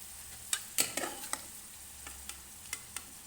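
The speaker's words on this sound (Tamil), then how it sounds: "நாட்டுக்கோழி வேக வச்சு எடுத்து வச்சுருக்கோம் அதை எடுத்து இதில் ஆட் பண்ணிக்கணும்" Boiled country chicken pieces tipped into a pan for a pepper fry and stirred: scattered sharp clinks and scrapes of a spoon against the pan over a low, steady sizzle, close and moderately loud, with no talking.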